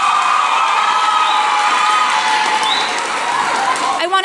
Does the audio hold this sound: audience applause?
yes